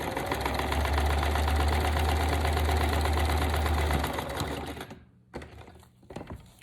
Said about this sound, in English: So first I'm going to stitch the paper to the main part.